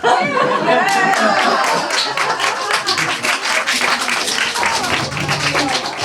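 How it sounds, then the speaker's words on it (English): Clapping from a small group with some chuckling mixed in, sustained and fairly loud and close, with voices talking over it. "I thought you were clapping because I came."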